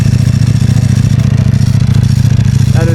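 A Ducati Panigale V4 SP fitted with a dry clutch idles with a steady, fast rhythmic clatter layered over a deep, pulsing engine note, loud and close throughout.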